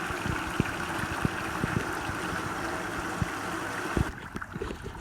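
Tap water running steadily into a bucket during a black sand filter experiment, a continuous near rush with small splashes and knocks that stops abruptly near the end as the tap shuts off.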